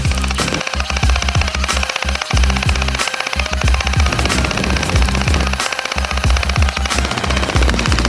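CZ Scorpion Evo gel blaster firing at targets from close range, rapid automatic bursts of sharp clattering shots with brief gaps between strings, loud and continuous.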